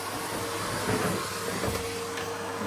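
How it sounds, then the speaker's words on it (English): A vacuum cleaner runs with a steady whirring drone as it goes over floor mats, close and moderately loud, with no talking. "It's easier to do it with this vacuum."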